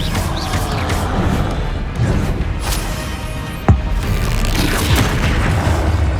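A Bombarda explosion spell goes off in Hogwarts Legacy amid dense game combat noise, with booming impacts and one sharp crashing burst standing out near the middle.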